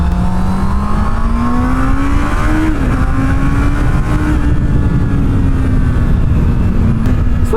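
A small Honda motorcycle engine hums steadily while riding, its pitch rising and dipping slightly as speed changes, a close, even drone with no talking.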